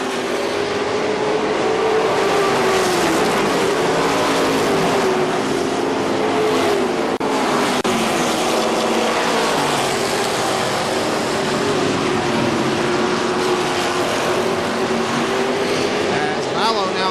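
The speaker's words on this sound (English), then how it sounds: "As Dunleavy now moves to the high side of the 18 of Frank Stapleton" Race cars circling KilKare Speedway in a dirt-track style oval race, a continuous loud roar of multiple engines with shifting pitch as cars pass, under steady announcer commentary.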